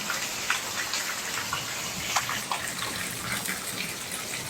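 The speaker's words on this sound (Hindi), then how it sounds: "ये देखिए बहुत तेज़ बारिश हो रही है" Heavy rain pours down around a village house veranda, a dense steady hiss of falling water with scattered drip and splash accents and no voices.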